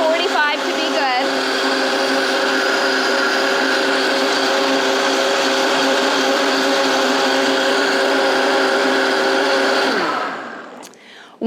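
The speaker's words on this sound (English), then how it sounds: "when you are blending with a high-speed blender" A Vitamix Venturist V1200 high-speed blender runs continuously for about ten seconds with a loud, steady motor whine, then spins down and falls quiet.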